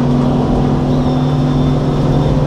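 A boat motor on a Ymarina 24 runs hard at full throttle, a loud, steady low drone with a strong held tone and faint rising whine, close and with no voices.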